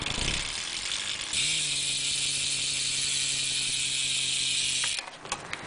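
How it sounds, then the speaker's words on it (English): A Revenge Industries wheel's rear hub on a Fit Eddie 3 BMX bike buzzes as a steady, rapid ratchet whir for several seconds while the wheel freewheels, then stops abruptly, leaving a few scattered clicks. "Here's the hub sound."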